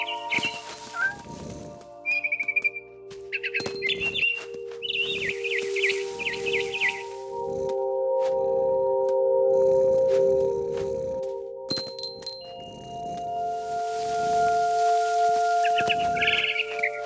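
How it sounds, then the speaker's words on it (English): Scattered bird chirps and tweets in the video game What Remains of Edith Finch, over a synthetic droning musical background, with short bursts of chatter coming and going throughout. "Then I heard chirping outside my window."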